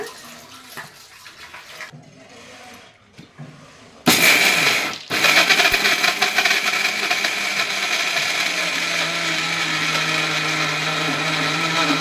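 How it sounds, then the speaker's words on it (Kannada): After some quiet handling, a mixer grinder starts abruptly, loudly whirring through a peanut mixture with whole cardamom pods, pausing briefly then running steadily for several seconds, close and alone. "ಈಗ ಇದನ್ನು ಮಿಕ್ಸಿ ಮಾಡೋಣ"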